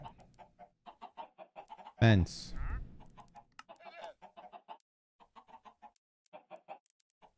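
Chickens in Minecraft cluck in short repeated bursts throughout, a steady scatter of small calls, with a brief louder noise near the middle and a voice speaking once.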